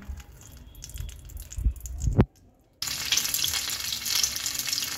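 Two eggplants sizzle in about two spoonfuls of white oil in a pan over low heat, a dense close hiss that swells after a brief gap, preceded by a few clattering knocks.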